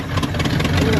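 A Ford Dentside F150 pickup engine running rough and near, a loud uneven rumble that holds steady over a brief moment.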